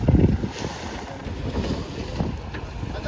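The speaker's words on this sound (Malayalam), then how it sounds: "ഭയങ്കര ചെറിയൊരു ബോട്ട് തന്നെയാണ്" A very small private boat, able to carry only four or five bikes, moves through open water near Gokarna while strong wind buffets the microphone in heavy gusts over a low, steady rumble.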